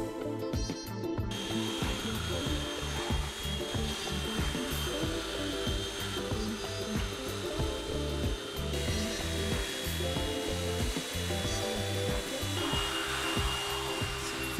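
A belt sander with coarse-to-fine belts (40, 80 and 120 grit) grinds across a cheap wood desk top, a loud, continuous motor whine layered with rhythmic rasping scrapes as it moves back and forth, with no talking.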